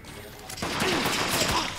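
Gunfire in the Deathgarden video game, a rapid burst of nearby shots under a voice.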